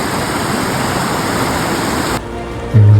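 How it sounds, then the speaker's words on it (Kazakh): A clear mountain river near Berel village in Katon-Karagay flows in a loud, steady rushing hiss that fills most of the moment, then drops away abruptly near the end, followed by a brief low bump. "Ол өзеннің дыбысы."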